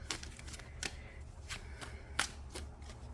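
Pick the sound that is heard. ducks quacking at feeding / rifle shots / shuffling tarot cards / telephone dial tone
shuffling tarot cards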